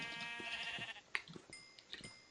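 Sheep in the video game Minecraft bleat in a few short, clear calls over a soft background of game sounds, with no one talking.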